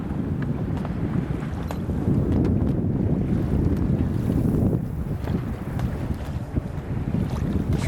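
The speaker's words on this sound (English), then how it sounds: "We're sailing just on the main alone so far this morning." A sailboat moving under its mainsail alone on a light-wind morning at low tide, with steady broadband wind rush across the microphone and low water wash against the hull throughout, no voices.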